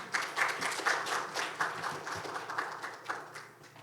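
Applause from a public hearing audience fills the room, a steady wash of many hands clapping at moderate distance.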